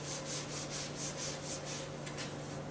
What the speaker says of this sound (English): I'm going to draw all these on the board.